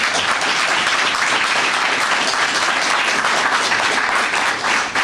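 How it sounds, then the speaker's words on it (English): Sustained audience applause for a panel at an Emancipation Day event in Washington, DC, a thick, even clapping from a room full of people lasting about five seconds with no talk over it. "please join me in giving our panel another round of applause"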